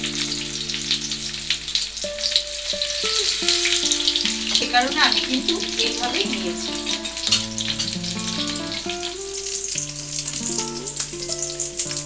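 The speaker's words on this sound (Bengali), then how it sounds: "এবার তেলে কিন্তু আমি এগুলো ঠিক এক এক করে দিয়ে দিচ্ছি" Leaf-wrapped food pieces sizzle and crackle steadily as they fry in hot oil, a close, constant hiss with someone speaking over it and some background music.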